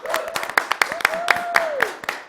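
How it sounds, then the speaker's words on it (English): A small group claps for candidates at a city council candidate forum, giving sparse, uneven claps nearby while a voice talks over them. "we're going to clap for you to say thank you for being candidates"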